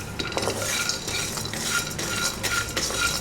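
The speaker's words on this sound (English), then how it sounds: "now into this add these coriander seeds and next cumin seeds" Coriander and cumin seeds fry with peanuts in a pan, a quiet sizzle broken by repeated scraping and clinking as a spoon stirs them.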